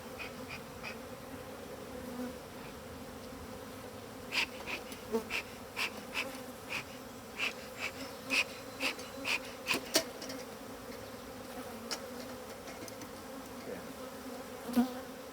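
Honey bees hum in a constant low drone during a hive opening, with individual buzzes flaring past nearby from time to time.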